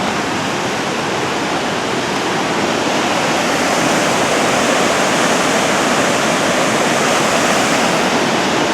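Silver Falls at Mt. Rainier National Park, with its river below, pours in a loud, constant rushing roar of falling water, steady and broad with no pauses or other sounds.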